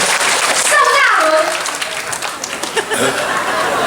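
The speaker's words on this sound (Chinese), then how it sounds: "很棒，再次掌声好不好？" An audience at a Taiwanese-language hit-song concert bursts into applause, a crowd of rapid claps swelling under a voice and a little laughter, then carrying on as a steady, loud patter of hands.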